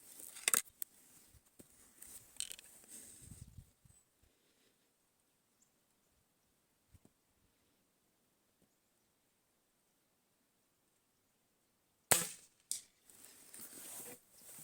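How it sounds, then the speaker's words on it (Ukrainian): A Shanghai B1-1 air rifle firing a 0.45 Luman pellet at a board target 40 metres away gives one sharp, loud crack near the end, after long near-silence broken only by faint handling rustles. "І зараз сьомий постріл буде"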